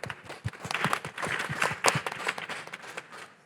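Scattered clapping from a small audience at a climate technology show in London, a light patter of individual claps that builds briefly and then thins out.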